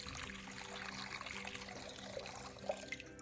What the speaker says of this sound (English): I like to fill a bowl with clean water,